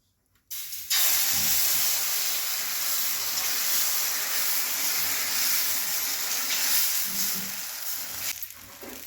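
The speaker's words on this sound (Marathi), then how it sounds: "बघा डोसा सोडून झालाय" Dosa batter sizzles loudly and steadily on a hot griddle, a dense continuous hiss that starts abruptly after a brief quiet moment and holds evenly until fading slightly at the end.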